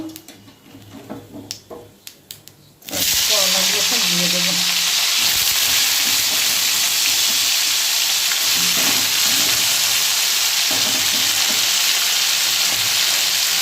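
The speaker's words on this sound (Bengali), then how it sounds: "এবারে তেলের মধ্যে একটু কালো জিরে ফোড়ন দিয়ে দেবো" Nigella seeds dropped into hot oil after frying potatoes, bursting into a loud, steady, close sizzle that holds for the rest of the clip after a brief quieter stretch at the start.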